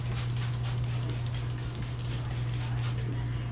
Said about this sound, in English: Get the surface a little more wet with some of the Dawn spray here.